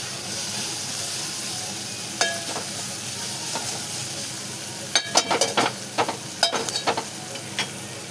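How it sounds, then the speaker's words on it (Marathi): A spoon stirs a masala mixture for prawn biryani in a pot over a soft, steady sizzle, with scattered scraping clinks that bunch into a quick run of knocks toward the end. "सगळं टाकून आपण सगळं मिक्स करून घेऊया बघा"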